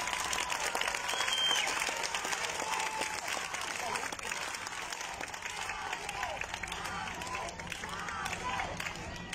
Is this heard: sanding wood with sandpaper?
no